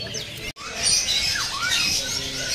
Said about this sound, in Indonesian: Ini ada burung kolibri kelapa.